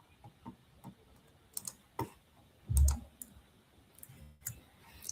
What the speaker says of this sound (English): now I'm clicking this